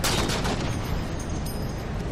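A fusion coil explodes in Halo 4 with a loud, broadband blast that fills the moment and decays into a rumbling, crackling tail over about two seconds.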